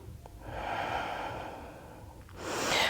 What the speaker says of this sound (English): 2 full breaths.